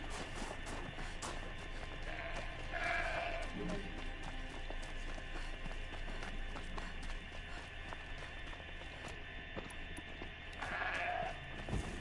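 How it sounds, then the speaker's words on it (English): Goats bleat in the game Horizon Zero Dawn, two short bleats about eight seconds apart over a faint steady game ambience with light movement sounds. "Just so many goats everywhere."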